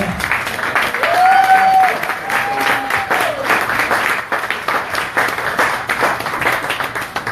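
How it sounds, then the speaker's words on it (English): Audience applause for Republican Assembly candidates at a Riverside, California candidates forum, sustained dense clapping from a crowd filling the room, with a brief voice or whistle-like tone riding over it early on. "please give a big round of applause to these men and women"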